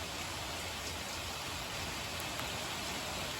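Rain falls outdoors during a truck cleaning, a faint, steady hiss of drops with no other sounds.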